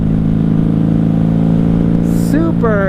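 A 1994 Honda Magna 750 VF750C motorcycle idles with a steady, close engine drone, then revs up sharply near the end as it begins to pull away.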